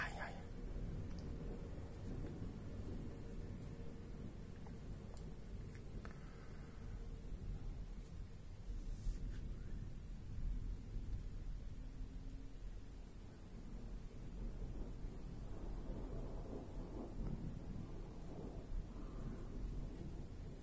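Low rumbling of a night thunderstorm in Ingolstadt with a constant hiss of rain, faint and distant, with a voice speaking at times.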